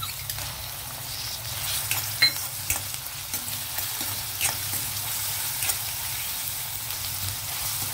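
Prawns and chopped onion fry together in a pan with a steady, close crackling sizzle, broken by occasional scrapes and taps of a stirring spoon throughout.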